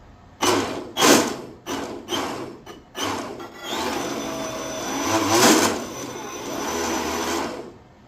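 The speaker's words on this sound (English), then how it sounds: "let's go ahead and blip the throttle" A twin-motor RC carbon catamaran with Castle X8s 2200kv motors revving on the bench: five short loud throttle blips in a quick rhythm, then a longer sustained whirring run that swells and eases.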